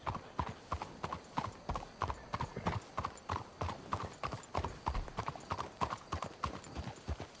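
Horses walk along in Red Dead Redemption 2, their hooves giving a steady, even clip-clop of hollow thuds at close range, continuing without pause over faint background ambience.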